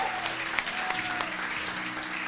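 Church congregation gives warm applause of thanks, a brisk burst of clapping close at hand with a few sharper individual claps standing out, faint voices murmuring underneath.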